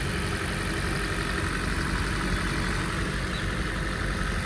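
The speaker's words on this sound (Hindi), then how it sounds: "इंजन कुछ ऐसी आवाज़ करता है इसका।" A 2023–24 Maruti Suzuki Swift VXI idles on a cold start, a steady, even engine hum that stays constant and close throughout with no talking.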